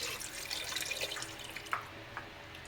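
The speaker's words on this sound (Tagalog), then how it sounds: "maglagay tayo ng isang taas ng tubig" Water runs and splashes steadily into a cooking pot nearby, with a few brief drips and clinks, no voices.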